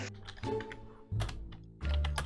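Computer keyboard typing in a run of quick clattering keystrokes, moderately close, with denser bursts of key presses partway through and again near the end, no voices.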